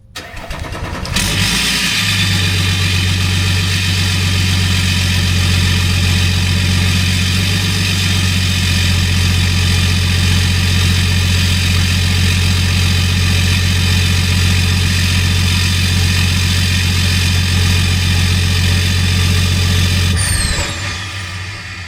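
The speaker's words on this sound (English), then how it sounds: "That's our stock exhaust." A tuned 3.0L LM2 Duramax diesel truck engine starts and settles into a loud, steady idle through a stock exhaust, running close for about twenty seconds before cutting off.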